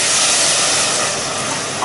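Pinot Grigio white wine hits hot oil in a risotto pan and sizzles with a loud, steady hiss up close, holding the whole time without any talk.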